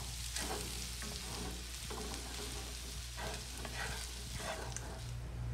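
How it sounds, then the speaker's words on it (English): Flour is stirred into sausage frying in grease in a pan, giving a steady close sizzle with scraping stir strokes throughout and no voices. "I'll just kind of coat all the sausage and get some of that grease in"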